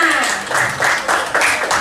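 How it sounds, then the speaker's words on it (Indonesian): A group of participants at an ice-breaking session bursts into brief applause, a few short rough surges of clapping that sound close and fairly loud. "Tepuk tangan untuk kita semua."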